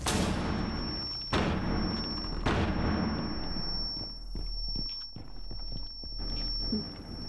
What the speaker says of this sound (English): Drop the flashbang.